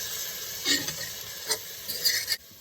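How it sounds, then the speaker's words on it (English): Rice and vegetables with peanut butter and a splash of soy sauce are stirred in a pan while cooking in a van. The sizzle is low and steady, broken by a few scraping stirs close by. "Now I'm going to stir it."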